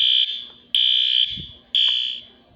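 Building fire alarm sounding during a test, a loud piercing electronic tone blaring in three repeated one-second pulses with brief gaps, heard alone without talk.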